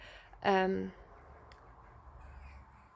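A single loud crow caw close by outdoors, one harsh call early on, followed by quiet background.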